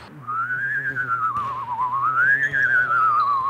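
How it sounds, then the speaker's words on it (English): A single person hum-whistles, a clear wavering whistled melody over a steady low hummed tone, close and fairly quiet, lasting a few seconds. "I've even mastered the art of hum whistling."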